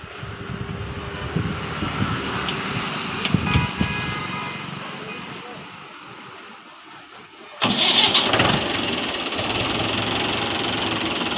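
A Mahindra 575 DI tractor cranks and fires up, the engine running and fading before a sharp restart surge into a loud, steady diesel idle up close.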